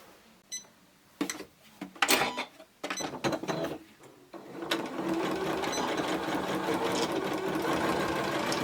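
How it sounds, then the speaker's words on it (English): A few clicks and short mechanical bursts, then a sewing machine runs steadily on a straight stitch, sewing a bottle bag, a close, even rapid whirring of stitching that continues to the end. "On my sewing machine, I'm just going to use a straight stitch."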